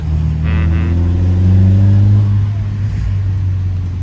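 A BMW E46's four-cylinder engine revs up through a new exhaust and holds a steady drone before easing off, loud and close, with no voices.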